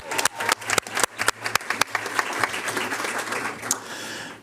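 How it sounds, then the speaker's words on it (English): Applause from the audience at a board of education business meeting, starting as sparse, distinct claps that quickly merge into a moderate, steady patter before tapering off. "Now the applause."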